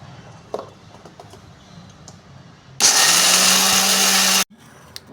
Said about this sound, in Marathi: टरफले काढल्यानंतर आपण शेंगदाणे बारीक करून घेऊया